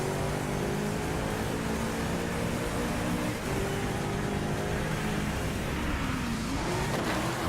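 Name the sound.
car driving on Japan track in video game Driveclub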